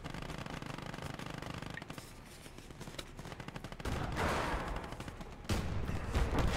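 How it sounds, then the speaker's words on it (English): Tank cannon firing armor-piercing shells in the Gates of Hell Ostfront video game, with a dense barrage of booming and crackling gunfire that swells louder toward the end. "Now we're just going to keep pumping shells into it."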